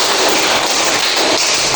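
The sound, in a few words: children's rhythmic clapping, clap five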